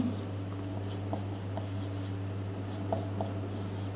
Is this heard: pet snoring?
no